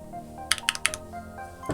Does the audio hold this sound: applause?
no